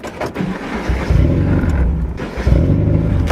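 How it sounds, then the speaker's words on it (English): A car with a welded differential pulls away on its first test drive, its engine loud and close, rumbling and revving up in surges. "So we are going to go for our first test drive."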